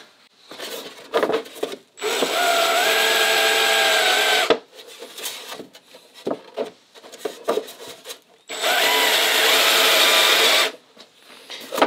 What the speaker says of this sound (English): And we'll just countersink around it slightly.